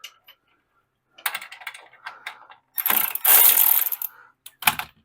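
A wrench loosens bolts on a VW Beetle front beam, making close, dry ratcheting clicks in quick irregular bursts with brief silent gaps between them.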